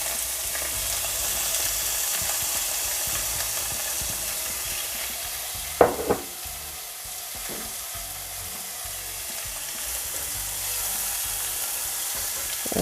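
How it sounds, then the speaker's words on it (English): Onions and fresh thyme sauté in a pan for Bajan salt fish gravy, with a constant close sizzle, a couple of sharp utensil knocks partway through, and light stirring scrapes. "we are going to let these saute for a little bit"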